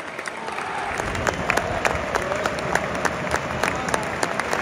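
A football stadium crowd at the Brussels derby, RSC Anderlecht vs Union Saint-Gilloise, applauding for Pelé: a dense, sustained wash of clapping from a large crowd, with sharper claps standing out close by.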